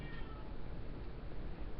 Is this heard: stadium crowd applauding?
no